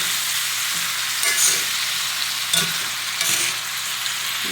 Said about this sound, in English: let it cook until your squash are tender and your onions are translucent